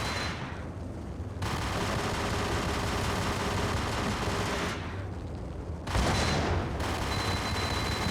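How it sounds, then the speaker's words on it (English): Sustained rattling gunfire and heavy blasts in the 2001 PC game Max Payne, loud continuous bursts broken by brief lulls, with a sharp surge of a grenade-like explosion late on. "Let's throw some grenades back at him."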